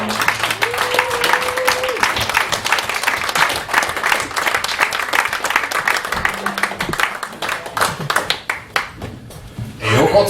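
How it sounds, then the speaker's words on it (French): An audience at a French open-mic poetry and performance evening claps loudly and continuously, with brief light laughter mixed in, before the applause thins out and fades toward the end. "On l'applaudit!"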